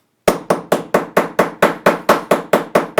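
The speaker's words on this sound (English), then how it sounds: "And then I'm going to get my hammer." A hammer taps a metal setting tool during bag making, about a dozen sharp, evenly spaced strikes in a steady rhythm, close and loud, with no talking.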